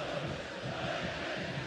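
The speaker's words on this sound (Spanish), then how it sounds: "Se rompen las manos los hinchas de San Martín. Para aplaudir el 7." San Martín football supporters in a packed stadium roar and applaud in a dense, steady wall of crowd noise during a match against Nueva Chicago, heard from a distance with no break.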